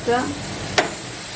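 Caramelised apples crackling in bubbling caramel in a pan while crêpes with apples are being made, a steady close sizzle with a brief sharper burst partway through and no talk.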